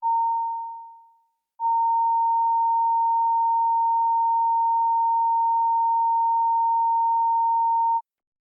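Pure sine test tone for a committee room sound check, a short burst that fades out, a brief gap, then a long steady unbroken tone held for about six seconds before cutting off.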